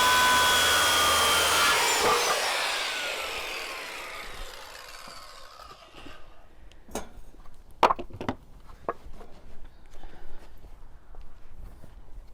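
A power saw whines loudly through wood for a planter, winding down after a couple of seconds, followed by scattered knocks and rubbing of tools and timber.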